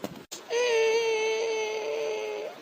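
A small girl cries in a long, loud, sustained wail after a brief sob, close by and with no talk over it, in a home kitchen where chicken and fish are being fried.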